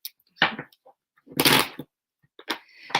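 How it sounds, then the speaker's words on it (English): A deck of cards being shuffled in several short riffling bursts with brief quiet gaps between them, close and fairly crisp, with no talking during the bursts. "Get some shuffles in."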